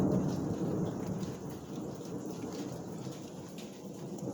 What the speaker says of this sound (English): Still a little bit of lightning. Still a little bit of thunder.